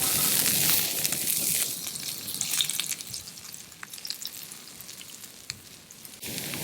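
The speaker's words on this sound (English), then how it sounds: "I'm going to put a little bit of oil, and I'm going to fry up these shallots and garlic." Shallots and garlic fry in oil for a black pepper crab dish, giving a close, steady sizzle with faint crackles and stirring scrapes, louder at the start and end, with no voices.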